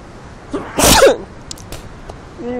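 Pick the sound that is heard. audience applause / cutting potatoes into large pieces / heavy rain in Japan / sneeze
sneeze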